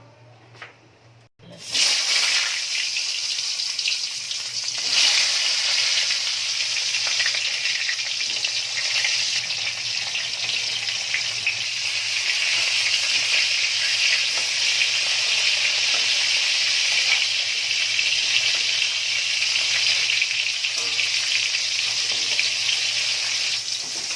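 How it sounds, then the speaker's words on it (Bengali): Pointed gourd pieces frying in hot mustard oil in a kadai, a steady loud sizzle that starts abruptly after a quiet moment and continues evenly throughout, with a low hum underneath. "তেলটা গরম হয়ে গেলে পটলগুলো আমি ভেজে নেবো"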